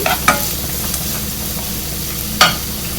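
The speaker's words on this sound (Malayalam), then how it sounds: "അപ്പോൾ ഇതും ഒരു പച്ചമണം മാറുന്നവരെ ഒന്ന് വഴറ്റിയാൽ മതി." Onion sizzles while being sautéed in a pan for gobi manchurian gravy, a steady loud frying hiss with two or three sharp scraping stirs of the spatula.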